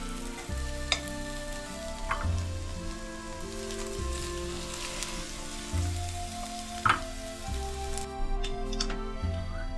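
Ingredients for mixed fried rice frying in a pan, a steady moderate sizzle with occasional clinks and scrapes of a utensil, continuous and close with no talking.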